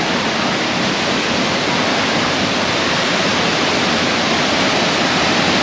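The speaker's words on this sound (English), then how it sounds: "Now I hear a waterfall" A waterfall in the Julian Alps of Slovenia roars as a loud, steady, dense rush of falling water, close and unbroken throughout with no voices.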